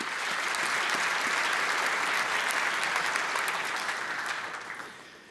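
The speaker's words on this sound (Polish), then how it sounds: "Wielkie brawa jeszcze raz." Sustained audience applause at the PZPN football gala honouring nominees, a dense wash of clapping hands that holds steady for several seconds before gradually fading toward the end.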